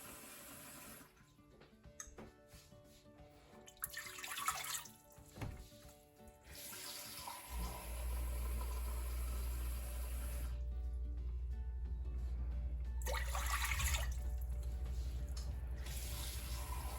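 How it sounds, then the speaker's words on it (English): Tap water runs into a large bottom pot for cooking grits. It starts as a faint, intermittent trickle and then becomes a steady, loud, close stream that fills the pot without pausing. "I'm going to start adding my water. And to that bottom pot, you want to add"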